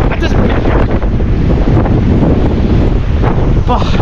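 Strong wind buffets a camera's built-in microphone at sea on a ship bound for Antarctica, a loud continuous roaring rush with gusty flutter throughout and no external mic to shield it.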